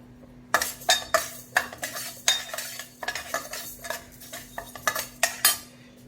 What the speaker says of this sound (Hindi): अभी हम दाल भुनेंगे।